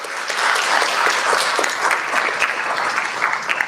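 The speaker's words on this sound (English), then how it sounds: "can we give our panelists a round of applause?" Audience applause for panelists at a university psychology department discussion on Black maternal health, a loud, steady round of clapping from a room of listeners.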